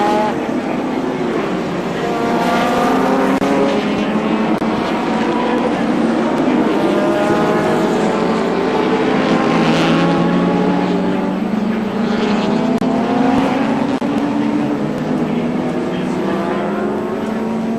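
Touring race cars from the 1984 Castrol 500 pass through a tight section of the Sandown circuit in Victoria, engines rising and fading in repeated waves under a commentator's voice.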